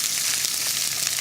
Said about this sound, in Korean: 볶을 때는 뭔가 빨리빨리 볶아야 돼요.